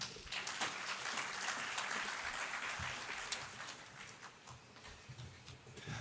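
Sustained audience applause at an industry event fills the room, a dense, steady patter of many hands clapping at moderate distance with no voices over it.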